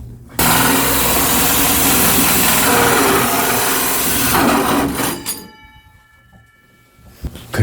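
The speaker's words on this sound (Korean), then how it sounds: "저거는 폴 커터를 이용해서 구멍을 내볼게요" A hole cutter on a power drill bores a ventilation fan opening through a bathroom ceiling dome panel, a loud steady grinding whine for about five seconds that cuts off, leaving quieter rattling and a brief buzz at the end.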